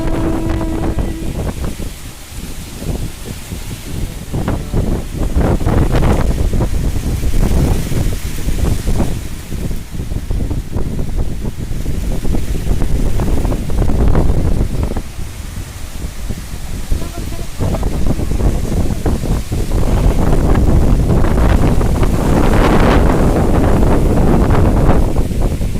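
A strong wind gusts hard against the microphone, with loud buffeting roars that rise and fall over the whole stretch, and a voice speaks now and then beneath it.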